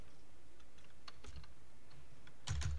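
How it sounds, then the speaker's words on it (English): Someone types a command into a computer keyboard, a handful of soft, scattered key clicks close by in a quiet room, ending in a firmer double tap. "Hopefully, I typed that in right."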